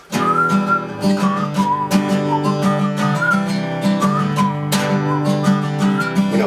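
Someone whistles a short melodic tune over a backing of steady music with a beat, the whistled line rising and falling.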